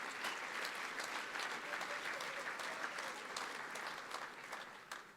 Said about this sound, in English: You can give a round of applause for that if you'd like